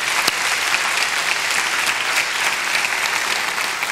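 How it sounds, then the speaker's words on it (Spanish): Studio audience at a 1996 Chilean TV variety show breaks into warm applause, steady and fairly loud continuous clapping with scattered sharper claps throughout. "Le damos un aplauso cariñoso"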